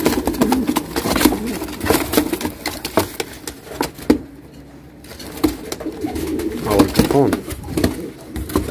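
White Gaditano pigeons cooing in a coop, soft repeated low coos overlapping under people talking nearby, with some rustling and clatter.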